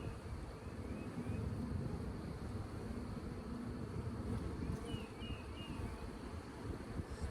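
Honey bees crawl over a hive frame, making a steady, faint, continuous hum of many wings that stays even throughout with no talking.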